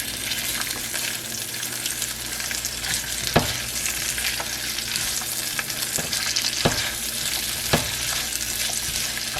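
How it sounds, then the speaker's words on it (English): Pork rib tips and vegetables cooking in a pot on the stove, with a loud continuous sizzle and bubbling, broken by a few sharp knocks of a utensil against the pot, close up and without talk. "I just like to cook mine on the stove and then put the rib tip on top and steam it down"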